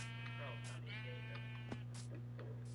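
Sheep bleating inside a video game, a few bleats rising over a steady electronic hum with talk from a streamer around them.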